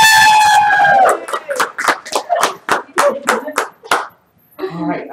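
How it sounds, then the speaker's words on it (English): A handful of people clap in a loose, uneven rhythm at a live game show right after a loud horn-like tone, with a voice starting up at the end. "You can keep clapping."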